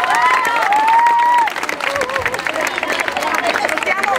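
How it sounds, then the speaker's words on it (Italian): Concert audience applauding and cheering for a young girl about to sing, crowd clapping and hubbub loud and close, with a voice briefly heard over the noise at the start. "Un applauso."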